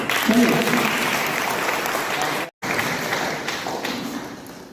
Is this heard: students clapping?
yes